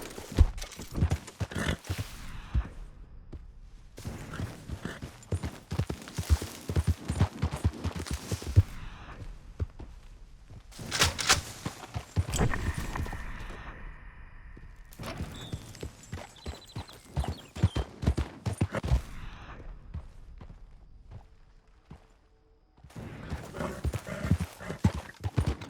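Hooves clip-clop in a steady galloping rhythm from a horse ridden in Red Dead Redemption 2, coming in bursts broken by short pauses, with a brief whinny and scattered game sounds between runs.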